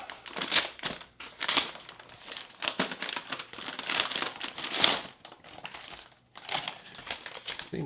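Crinkly plastic and foil packets from a 2018 Canadian military ration, lasagna menu, rustle and crumple in repeated bursts as items are pulled out of the bag and unwrapped, close up with brief pauses.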